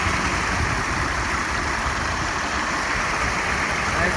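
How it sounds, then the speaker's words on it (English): A double waterfall cascades into a large pond beneath a weeping tree, a steady broadband rush of falling water filling the whole span, loud and close, with no pauses. "Good waterfall action, a double waterfall."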